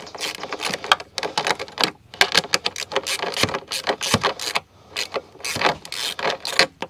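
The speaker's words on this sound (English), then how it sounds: "I just switched it up to a ratcheting wrench." A ratcheting wrench works a 12 millimeter bolt on a homemade disc golf cart, giving rapid bursts of close mechanical clicking and scraping in uneven strokes with brief pauses between.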